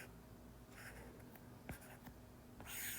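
A pen scratching across paper as a graph is drawn for a Form 4 additional maths exercise, with quiet intermittent strokes and short scribbles, faint and close, no talking.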